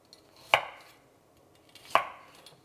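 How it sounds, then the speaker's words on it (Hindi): Ginger being roughly chopped with a knife on a board, two sharp, distinct chops about 1.4 seconds apart with a few faint taps between, close and otherwise quiet. "इसे भी रफली चॉप करके ऐड कर लेंगे"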